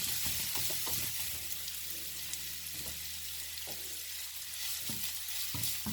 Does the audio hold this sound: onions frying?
yes